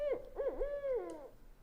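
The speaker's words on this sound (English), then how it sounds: "So there's an owl hoot in there somewhere." An owl hoots in a series of close, clear wavering calls, a few quick notes followed by a longer falling hoot, standing alone with no voices.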